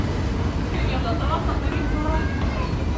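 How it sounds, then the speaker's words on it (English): Ambience inside Brussels-Midi railway station in Belgium: a steady low rumble of trains and crowd murmur, with indistinct voices chattering throughout. "We are in midi station right now."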